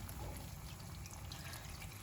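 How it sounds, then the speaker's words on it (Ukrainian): Water poured over the top of cabbage rolls in a pot, a faint, steady trickling pour heard alone and close up for a couple of seconds. "І отак зверху залью водички."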